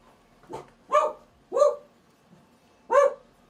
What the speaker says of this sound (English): you're barking for no reason.